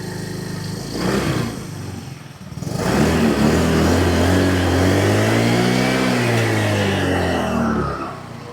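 A Yamaha Mio Gravis scooter engine sputters briefly, then revs up close and loud, its pitch climbing and falling in a steady sustained run before easing off at the end; no one speaks.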